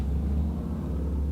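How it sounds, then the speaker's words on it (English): A motorcycle rumbles past, a low steady engine drone with a throaty rumble lasting just over a second, fairly close, no voices. "That's a motorcycle."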